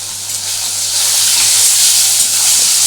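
Garfish (kaikka) pieces fry in hot oil over a raised gas flame, giving a loud, steady, bright hiss that swells slightly and holds without breaks, heard up close with no talking.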